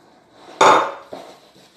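A utensil knocks and scrapes against a bowl while pastry dough of flour, rubbed-in butter, salt and cold water is mixed, giving one sharp close clatter and then a softer second knock.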